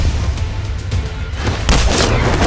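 Orbital cannon fires in the Infinite Crisis video game, a deep booming blast that rumbles low, then erupts into a louder, brighter explosion about two-thirds of the way through, with no talking over it.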